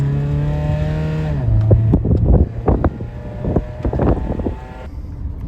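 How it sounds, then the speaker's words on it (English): A car engine running on Dr. Pepper and barbecue sauce idles with a steady humming tone that drops in pitch, then gives way to choppy, gusty buffeting bursts. "Engine's pretty quiet."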